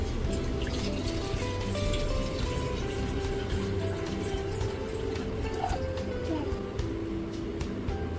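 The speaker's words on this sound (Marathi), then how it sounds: "सर्वात आधी आपण घेऊया पातेल्यामध्ये एक 300 ml पर्यंत पाणी." Water, about 300 ml, pours steadily into a cooking pot in a home kitchen, a continuous close splashing fill that lasts the whole stretch with no talk over it.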